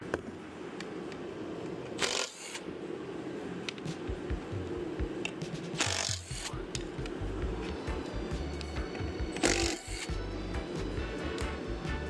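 Screws being worked out of the plastic housing of a STIHL backpack blower during a backplate repair: steady close scraping and rubbing with three louder bursts of handling, no talk.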